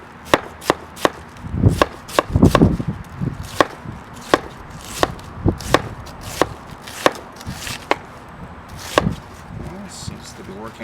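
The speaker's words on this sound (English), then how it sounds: "So this dish requires that the cabbage be julienned" Repeated sharp chops of a Clever Cleaver slicing through cabbage on a cutting board for a traditional Russian cabbage salad, close and loud, in a steady rhythm with a brief flurry of quicker cuts near the start.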